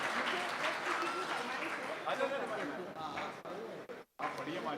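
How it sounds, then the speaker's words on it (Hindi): Audience applause after a ghazal recital at a kavi sammelan mushaira in Ambala, a steady broad patter of many hands under murmured crowd noise, breaking off briefly near the end before resuming. "गजल खत्म हो गई, ताली बजाइए।"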